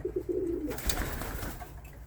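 A pigeon in a pigeon loft gives a short, low cooing call up close, followed by a brief rustle against a murky room background.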